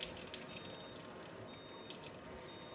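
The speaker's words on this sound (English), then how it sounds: "I'm going to turn the flow of the water on." Water runs in a steady stream from a Kangen water ionizer as it dispenses 6.0 beauty water, a soft continuous hiss and splash heard alone at close range.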